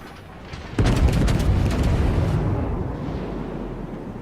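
A heavy naval gun salvo booms in a World of Warships battle, one loud close blast with a rolling, rumbling tail that slowly fades. No voices are heard.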